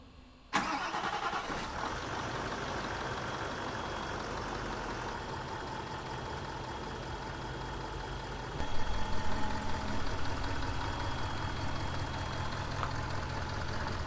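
A Nissan Titan XD truck engine, a salvage rebuild, cranks and catches within a second, then settles into a steady, loud idle that swells briefly partway through and holds, close by with no one talking.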